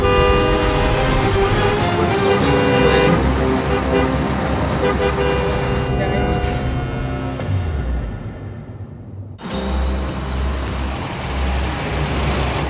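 Loud road traffic in Vietnam with repeated blaring horns, including long sustained honks, over the dense rumble of engines; the horns cut off and resume after a brief lull.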